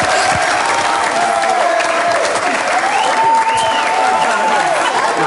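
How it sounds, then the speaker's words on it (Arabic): Audience applause at a live television show, a strong, dense burst of clapping from a crowd that holds steady and loud throughout, with a sustained tone and some rising musical notes running beneath it. "تصفيقة عاد تصفيقة قوية"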